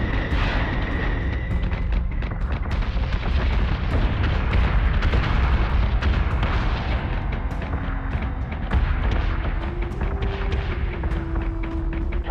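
Incoming weapon fire pounds a ship in Battlestar Galactica Deadlock, giving a continuous loud barrage of rumbling explosions and booms with crackling bursts throughout.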